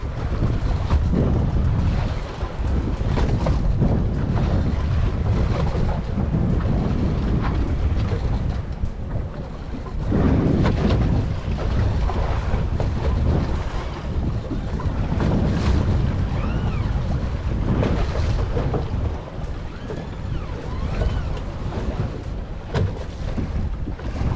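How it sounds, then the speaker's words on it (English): A fishing boat out on deep water for golden tilefish, running with one motor in gear, gives a steady low rumble beneath heavy gusting wind buffeting the microphone throughout. "So sometimes I'll just put one motor in gear, okay, put my heading hold on."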